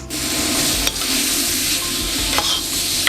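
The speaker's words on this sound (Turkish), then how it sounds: "soğanları biraz pişirdikten sonra artık sallayalım" Onions sautéing in a pan for a meat sauté make a loud, continuous close sizzle, with a few brief stirring scrapes as they are tossed.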